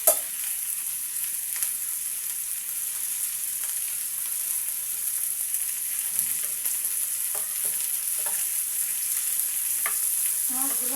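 Fish frying alongside onion, garlic and green chili makes a steady bright hiss, with scattered soft stirring scrapes and taps and a small clatter near the end.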